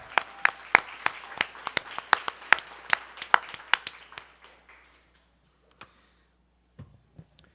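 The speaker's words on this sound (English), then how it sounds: "Let's give them a round of applause." A small audience at a press conference claps for sponsors, distinct separate claps at first that thin out and stop after about four seconds, leaving a few stray taps in near silence.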